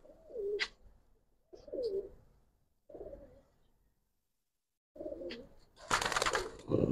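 Soft, low coos from racing pigeons repeat in short bursts with pauses between, close by, followed by a brief rustle of wings.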